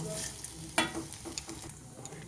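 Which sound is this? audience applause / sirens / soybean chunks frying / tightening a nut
soybean chunks frying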